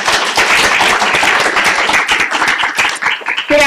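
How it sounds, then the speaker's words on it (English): Sustained clapping from a lecture audience on a university campus, a dense, close round of applause that fades toward the end. "Let's give a round of applause for Gaston."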